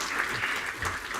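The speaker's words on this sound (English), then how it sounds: "that was longer applause than I had paused for, so thank you for that." Audience applause at a cyber regulation conference, a steady, even wash of clapping from many hands, moderately loud and continuous for about a second.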